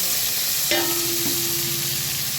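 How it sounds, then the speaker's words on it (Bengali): Bay leaf, dried chilli and cumin temper in hot oil with a steady, close sizzling hiss, a brief clatter near the start, and a faint tone running underneath. "তেজপাতা শুকনো লঙ্কা জিরে ফোড়ন দিয়ে দিচ্ছি"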